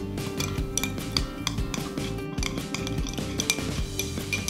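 A teaspoon stirs sodium nitrate into water in a glass, clinking and scraping against the sides in quick, irregular taps up close, with no voices.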